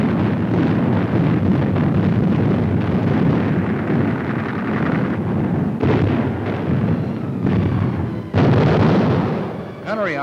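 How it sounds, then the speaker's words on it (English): Naval guns shelling an enemy-held shore in a Pacific barrage near Guadalcanal, heard as a loud continuous rumble of gunfire and blasts with wind noise, a sharp burst near the end. "Our guns quickly found the range and plastered the entire shore."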